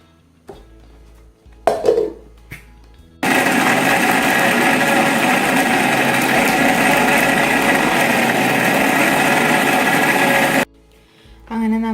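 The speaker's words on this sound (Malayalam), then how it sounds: "ഇനി നമ്മളൊരു മിക്സിയുടെ ഗ്രൈൻഡർ എടുത്ത് അതിലിട്ടിട്ട് ഇതൊന്ന് അരച്ചെടുക്കണം" A kitchen mixer grinder churns passion fruit pulp and seeds with a loud, steady whir that starts abruptly, runs about seven seconds and cuts off, with light clatter of handling before and after.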